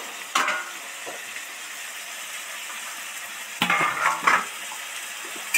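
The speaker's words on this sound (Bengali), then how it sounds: "ভালো করে কষার জন্য ঢাকা দিয়ে দিয়েছি, আর টকবক করে একটা আওয়াজ হচ্ছে।" Chopped snake gourd sizzles and bubbles in a pan with a steady close fry, then bursts of utensil clatter and stirring near the end; no voices.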